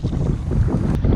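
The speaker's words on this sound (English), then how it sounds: "It is so windy out here, guys." Strong wind buffeting outdoors during a fishing outing, a loud rumbling gust that roars continuously into the microphone for about a second.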